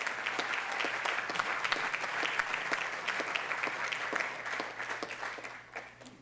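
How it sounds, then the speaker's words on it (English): A crowd gives sustained applause at a ribbon cutting for the Riverfront Capital One building: dense, even clapping that carries on steadily throughout, mid-distance and with no voices over it. "you can give him another round of applause for that"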